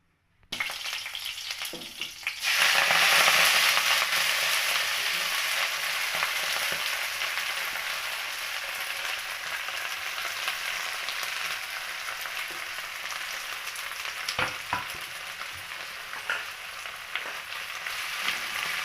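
Peanuts and coriander seeds frying in oil in a kadai, a steady close crackling sizzle that flares loudly early on and then settles into an even hiss with occasional sharper pops.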